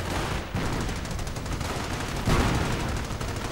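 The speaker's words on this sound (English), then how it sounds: "Heavy machine gun opening up on the Panzer Grenadiers." Heavy machine gun fire in a World War II strategy video game, a dense rattling burst of rapid shots at moderate volume, with a louder surge near the end and no speech.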